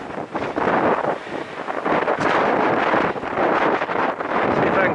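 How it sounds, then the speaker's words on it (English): Strong, steady wind roars and buffets the microphone on a mountain trail in the Great Smoky Mountains near Thunderhead, loud and continuous for the whole stretch with gusty surges. "It's probably going to be super windy."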